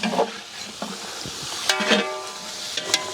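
Whole brinjals (eggplants), five kilos of them, sizzle in hot oil in a large pan for a village-style biryani brinjal dish, with steady frying hiss and a few scraping stirs and clanks of a ladle close by.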